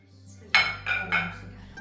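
Food being served into a small bowl with dishes clinking, heard as three distinct clinks close together in a quiet indoor room over a low steady hum.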